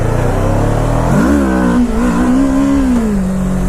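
Kawasaki Ninja 650 engine held steady, then revved up hard as the front wheel pops briefly into a wheelie, a loud, close, rising engine note that holds and then eases back down.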